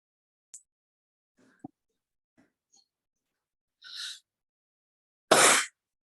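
A single sneeze during a French municipal council meeting, preceded by faint breaths and small noises, then a short sharp burst of air close to the microphone.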